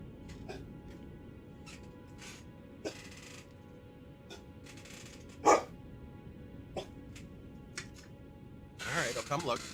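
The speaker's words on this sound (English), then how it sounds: "What are you barking at?" A dog barks in a room in a few short, scattered bursts, one louder than the rest, over a quiet background with small clicks and a noisier stretch near the end.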